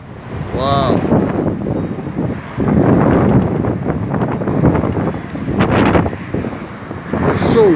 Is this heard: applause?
no